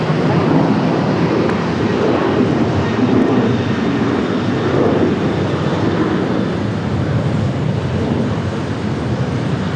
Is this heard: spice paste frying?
no